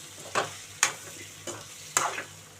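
Curry leaves dropped into bitter gourd frying in a pan, giving a low steady sizzle broken by four sharp stirring scrapes spaced about half a second apart.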